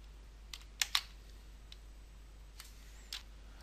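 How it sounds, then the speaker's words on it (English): Computer keyboard keys click a few times sparsely, a pair of sharp presses together followed by softer single taps against a quiet background hum, as a Ctrl and Windows key shortcut is pressed. "pressing the Ctrl key and the left window key on your keyboard at the same time"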